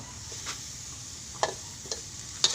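Gecko mushrooms dry-roasting in a pan give off a soft, steady sizzle and hiss, with a few sharp clicks of a utensil stirring, close and quiet.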